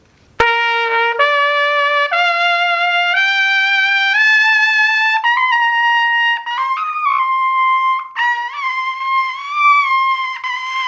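A solo trumpet played badly above high C, a string of thin, strained held notes stepping upward, with wavering and cracked pitches near the end, loud and close in a quiet room.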